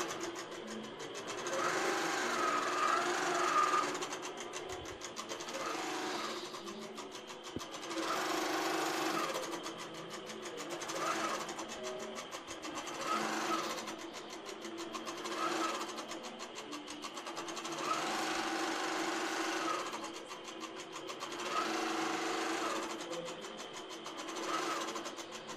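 An INNOVA longarm quilting machine runs an edge-to-edge stitching pass, a steady close mechanical whir with rapid needle chatter that swells and eases in long cycles. No one speaks.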